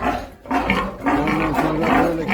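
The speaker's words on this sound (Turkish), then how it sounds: "Küçük domuzlar, büyük domuzlar." Pigs on a farm in Germany grunt and snort in continuous rough, throaty bursts, close and loud, with overlapping calls and a short pause near the start.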